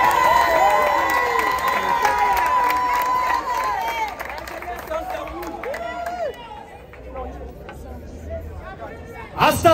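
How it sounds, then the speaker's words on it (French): A crowd at a Gabonese political rally cheers and hails a speaker, with excited voices, shouts and chatter rising and falling, a brief lull, then a loud burst of cheering at the end. "Sous vos acclamations, bien sûr."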